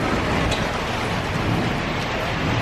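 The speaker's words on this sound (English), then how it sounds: "pouring down rain" Dense, steady rush of heavy rain pouring down in New Mexico, loud and continuous with no pauses or voices.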